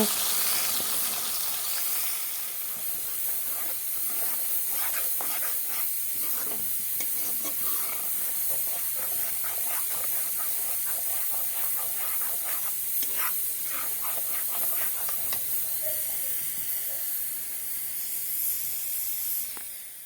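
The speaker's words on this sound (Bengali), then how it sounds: "মশলাটা কষিয়ে নিই" Masala is fried with cumin in hot oil in a pan, making a continuous hissing sizzle with bursts of scraping stirs in the middle stretch, close and steady, with no talking.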